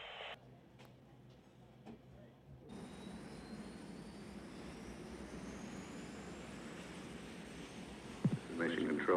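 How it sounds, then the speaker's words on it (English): Chase planes taking off at Edwards Air Force Base, a faint distant jet engine roar rising steadily and spreading, with a brief radio voice near the start and at the end. "Mission Control, chase planes are taking off now at Edwards."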